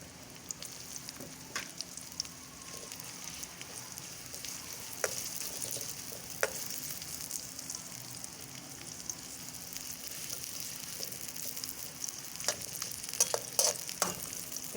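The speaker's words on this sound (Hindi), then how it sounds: "प्याज को हम लाइट ब्राउन करते हैं पहले" Chopped onions fry in a pan with a soft, continuous sizzle, and a spoon gives occasional light clicks and scrapes as it stirs, moderately quiet and close, with no talking.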